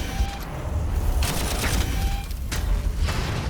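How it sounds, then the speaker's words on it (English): Artillery and gunfire crackle in a Warhammer 40,000: Armageddon battle, with repeated booms and rattling bursts over a rumbling low background, fairly loud and continuous with no talking. "You've got some artillery in there."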